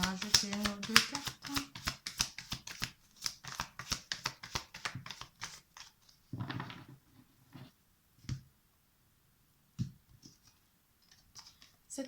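Tarot cards are shuffled in a rapid run of crisp riffling flicks, then a few slower, scattered card slaps and taps while a person speaks quietly.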